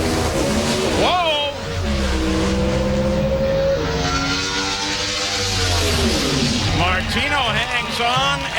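Top-fuel drag race cars at the NHRA Gatornationals in Gainesville launch from the start line with a loud, sustained engine roar that rises and falls over several seconds, a commentator talking over it throughout.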